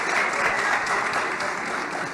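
Dense, even audience applause fills a hall, loud and continuous from start to finish with no clear gaps.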